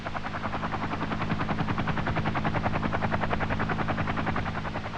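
A CH-47 Chinook twin-rotor helicopter in flight, its rapid, even rotor thumping beating steadily and loudly throughout with a constant engine drone beneath.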